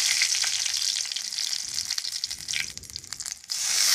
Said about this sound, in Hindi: अब हम इसमें डालेंगे तेज़पत्ता, जीरा, लाल मिर्च का तड़का लगाएंगे।